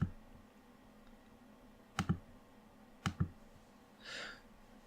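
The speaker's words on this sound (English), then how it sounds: "We want to click open." A computer mouse clicks twice in quick pairs, a second apart, crisp and close in a quiet room, followed by a faint breathy sigh.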